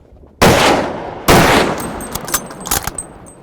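Two loud, sharp rifle shots taken at a Cape buffalo on an African safari, close together and near, followed by lighter clattering and knocks as the echoes fade.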